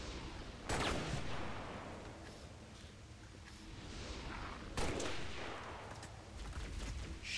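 Repeated bursts of gunfire in the Halo: Reach campaign Recon mission, with two sharp volleys standing out over a steady rumbling battle backdrop, fairly loud and close.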